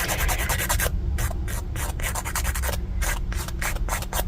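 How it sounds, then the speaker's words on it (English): Nail file rubbing back and forth across press-on nails in quick, rhythmic strokes, close and steady, with no voice over it. "these only need a tiny bit of filing"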